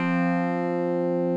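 A Yamaha SY77 synthesizer holds a steady, unchanging static waveform tone, a sustained harmonic-rich drone with no movement in level, heard alone.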